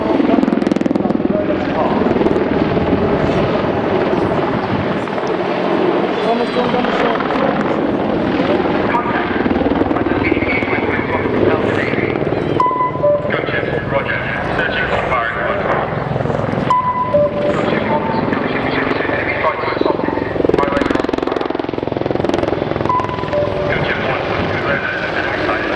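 Military gunship helicopter flying a display at the RIAT 2015 air show, with loud, steady rotor thumping and engine roar lasting throughout, close and dominant, while a commentator talks over it.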